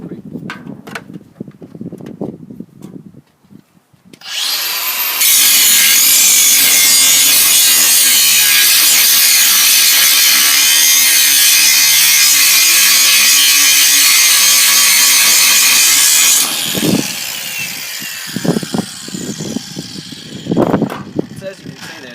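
Cordless Milwaukee M18 Fuel 125mm angle grinder with a 5-inch disc bites into 5mm steel, a loud, continuous, harsh grinding roar lasting about eleven seconds. Talk is heard before and after it.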